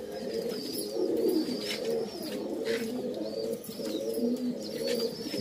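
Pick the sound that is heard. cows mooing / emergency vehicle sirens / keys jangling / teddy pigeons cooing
teddy pigeons cooing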